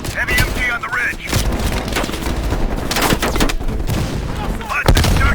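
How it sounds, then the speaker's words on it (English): Heavy machine gun fire in the video game Call of Duty: Black Ops Cold War, dense rapid bursts and booming impacts under loud battle noise, with voices speaking over the combat throughout. "Hudson, heavy MG on the ridge."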